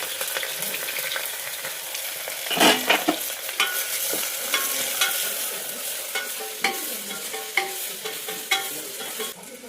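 Green chilies, carrot, beans and potatoes fry in a hot pan while a spoon stirs them, giving a continuous close sizzle broken by repeated scraping and clattering strokes.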